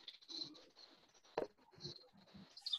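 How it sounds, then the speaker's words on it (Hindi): Birds chirp faintly in the background of a poor online lecture connection, giving thin, scattered high calls between soft patters and small clicks, quiet and intermittent. "पीछे चिड़ियों की आवाज आ रही है"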